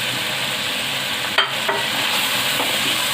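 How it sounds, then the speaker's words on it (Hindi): Mutton frying and being stirred with green chilies and peas in a pan, a loud continuous sizzle with a couple of brief scraping stir sounds, no talking. "गोश्त और मटर दोनों अच्छी तरह से भून लेंगे।"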